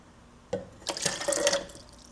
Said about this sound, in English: I simply use tap water.